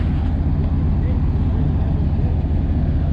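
A small engine runs steadily through a muffler during tree work, a continuous low, throaty drone with a thick rumble and no breaks, close by and fairly loud.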